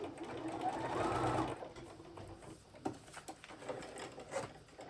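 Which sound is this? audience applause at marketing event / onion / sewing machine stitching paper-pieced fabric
sewing machine stitching paper-pieced fabric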